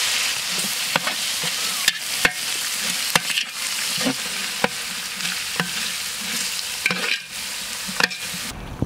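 Ginger garlic paste fries and sizzles in a pan for jackfruit biryani, a steady close hiss broken by repeated sharp scrapes and taps of a stirring spoon, with no talking.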